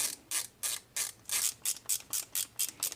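Screws being tightened on a Honda TRX400 ATV carburetor during a rebuild, giving a rapid series of about a dozen crisp ratcheting clicks in a steady rhythm, close and clear with no talk.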